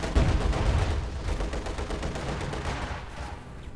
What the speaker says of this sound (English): 2 Zis field guns are going to drop this Panther